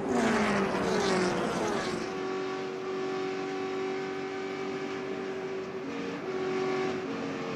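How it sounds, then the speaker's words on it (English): NASCAR race cars during a crash on an oval track, a loud roar of engines with a tire squeal that bends downward early, then a steady high engine drone that carries on to the end. "I saw Elliott spin, maybe Steve Park as well"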